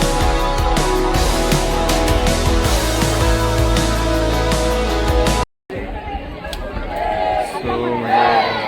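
Dense crowd of devotees at Ekvira temple near Karla caves, a thick wash of chanting and voices with ringing, music-like tones, then a brief cut to nearer chatter and murmur.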